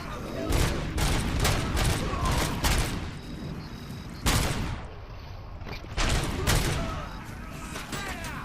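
Gunfire erupts inside a video store in the video game Robocop Rogue City, loud repeated bursts of shots in several volleys with brief pauses between them.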